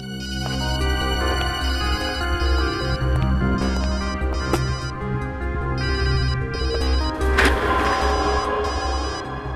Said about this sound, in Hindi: घंटी घंटी तो लैब में बज रही है